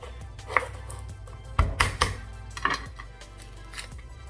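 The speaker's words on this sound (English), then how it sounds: "now we're going to chop our garlic, our onions, our bell pepper, and our green chili" A knife chops garlic on a cutting board in a home kitchen, with a few scattered close taps followed by a louder cluster of firm chops, then softer cuts trailing off.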